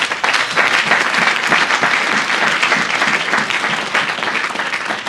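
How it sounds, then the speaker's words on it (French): A church congregation applauds steadily and loudly for several seconds, a dense, continuous clapping from a large crowd indoors. "Acclamation à Jésus-Christ."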